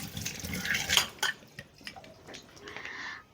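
Dishes and a pressure cooker are being washed in a home kitchen, with clinking metal and ceramic, running and dripping water, and scattered close knocks coming in irregular bursts.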